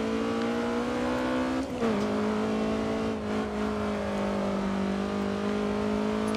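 Race car engine held at full throttle in the Grid 2 racing game, a loud steady howl with a brief pitch dip and recovery near two seconds, continuous throughout with no voices.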